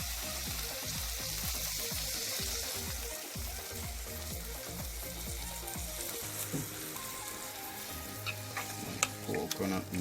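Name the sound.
stirring coconut milk into salt mackerel rundown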